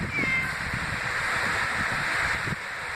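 A cat meows a couple of times at close range through steady wind-like hiss, with no clear speech.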